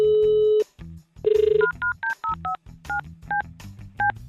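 Mobile phone dialing: a steady tone, then a buzzy burst, followed by a rhythmic run of about nine loud, short DTMF keypad beeps, close and without speech.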